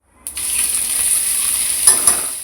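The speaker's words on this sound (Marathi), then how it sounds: "तेल तापलेलं आहे यामध्ये थोडेसे जिरे घालते बडीशेप घालते थोडी" Cumin and fennel seeds hit hot oil in a kadai, bursting into a steady loud sizzle with a couple of brief stirring scrapes near the end.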